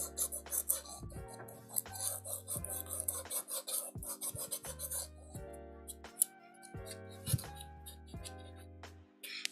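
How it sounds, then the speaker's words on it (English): Slow, steady rasping of sandpaper rubbed by hand over the finish of an Air Force 1 sneaker, close and quiet, in short repeated strokes with brief pauses between passes. "Like I'm slowly sanding the finish off."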